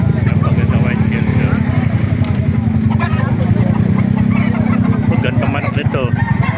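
Gamefowl and chickens at a market in Baliwag, Philippines, including breeds like Lemon Sweater, white Kelso and Bulik, cluck continuously at close range amid a busy din, with people talking over them.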